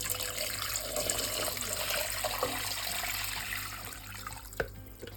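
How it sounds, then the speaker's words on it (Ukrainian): Water, about two litres in all, poured into a pot holding one onion and one carrot for borscht: a steady, close splashing stream that runs without a break for about five seconds, with no talking. "Заливаю водою."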